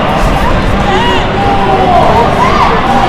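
A soccer crowd at a MoHi versus Valor match roars and cheers loudly and steadily for what looks like a goal, with shouting and whistling voices rising over the dense noise throughout.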